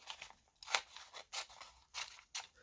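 Scissors snip through paper from a leftover envelope, several crisp cuts in an uneven rhythm, close and fairly quiet with no talking.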